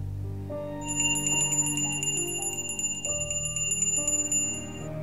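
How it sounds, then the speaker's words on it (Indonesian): A small bell rings in rapid, bright repeated strikes over a soft melodic tone, jingling steadily for a few seconds before stopping. "Lonceng berbunyi, padahal aku sama sekali tak menggerakkannya."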